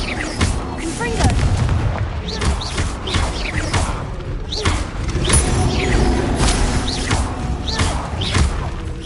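Confringo spell blasts in Hogwarts Legacy go off as repeated booming explosions with sharp thumps, loud and close, over dense game effects and some speech.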